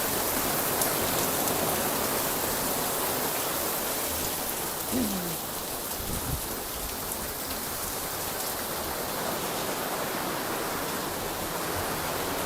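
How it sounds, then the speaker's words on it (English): Steady, dense rain hisses continuously outside, an even wash of drops with no pauses and no talking. "I can feel the rain standing inside over here also."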